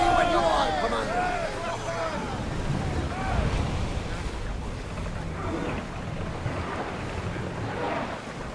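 A ship setting sail on the open sea in Assassin's Creed Odyssey, with a steady wash of waves and wind under a muffled crowd of crew voices, plus a few seabird-like cries early on.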